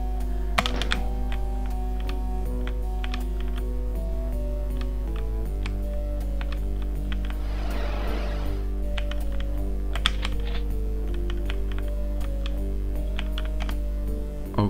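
Computer keyboard typing during a Doom game, with quick key clicks and taps in irregular bursts over a constant low game hum, close up and without speech.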